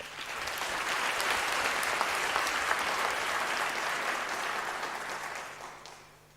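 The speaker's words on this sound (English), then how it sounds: "let's give them a round of applause once more" A university graduation audience breaks into a full round of applause, dense clapping swelling quickly, holding steady, then tapering off near the end.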